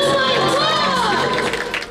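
Audience at an annual school event on a Karachi airport campus applauds and cheers after students' martial arts display, a dense, loud crowd wash with voices and shouts mixed in, steady for two seconds.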